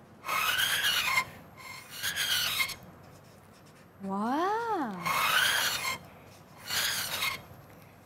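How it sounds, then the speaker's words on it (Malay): A drinking-straw flute gives a thin, reedy tone that wavers up and down briefly between bursts of breathy blowing and rustling; a voice briefly reacts. "itu bunyi seruling cikgu"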